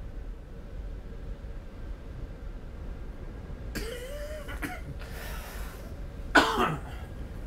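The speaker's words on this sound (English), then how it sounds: "excuse that coughing" A few harsh coughs burst out, with one louder, sharper cough near the end, set against a steady low background hum.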